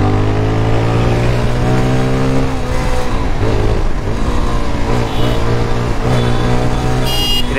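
A GPX 250R motorcycle engine revs up loudly and close, its rising and falling harmonic whine sweeping through several throttle pulls, with a short high burst near the end.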